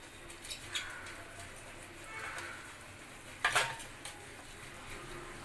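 A spoon scrapes and stirs ginger vadi mixture in a pan, a soft steady scraping with faint clinks of metal and one sharper knock partway through, quiet and close.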